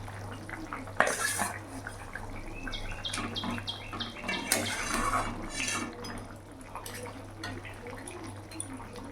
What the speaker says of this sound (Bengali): এবার ভেজে রাখা বাটা মাছগুলো দিয়ে দেবো।